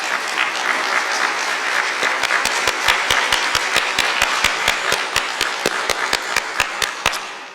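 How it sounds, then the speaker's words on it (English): An audience applauds the McKinley Technology Education Campus Junior ROTC at a Department of Justice heritage month observance indoors: steady, fairly loud clapping from a crowd, with a few sharp individual claps standing out, fading at the end. "Please join me in a round of applause for the McKinley Technology Education Campus Junior ROTC."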